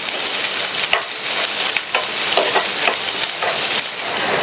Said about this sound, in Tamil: அதை சேர்த்துட்டு இந்த வெண்டைக்காயை 5 நிமிஷத்துக்கு இந்த எண்ணெயிலேயே வதக்கிக்கங்க.